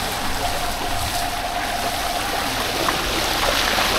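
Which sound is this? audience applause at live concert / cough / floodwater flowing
floodwater flowing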